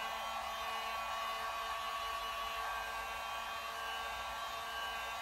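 A hot air tool blows with a steady, even roar while heating a part for an old center console rebuild on a 1955 Chevy truck, continuous and fairly close throughout.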